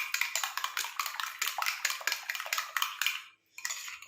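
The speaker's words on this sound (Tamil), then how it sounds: "நல்லா வந்து மிக்ஸ் பண்ணிக்கலாம். அப்போ தான் நல்லா இந்த லெமன் ஜூஸ் இதோட சேர்ந்து நல்லா மிக்ஸ் ஆகும்." Homemade lemon juice face cream mixed briskly in a small bowl, a rapid steady run of close clinking and scraping strokes that breaks off briefly near the end before resuming, no voices.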